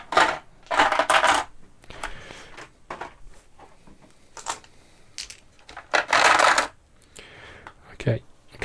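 Plastic dice from an ISS Vanguard board game are dropped and shuffled back into their tray compartments in bursts of sharp rattling clicks, loud and close, with quieter handling pauses between and occasional speech.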